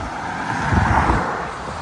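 Tractors drive past on a rural road, a brief low engine rumble swelling and fading as one passes nearby.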